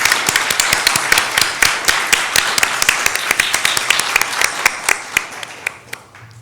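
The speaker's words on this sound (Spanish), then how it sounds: "les voy a pedir, por favor, un aplauso para Romina y para Leonora" Audience applause after a talk on essay and messianism, with dense clapping that thins out to a few scattered, distinct claps near the end.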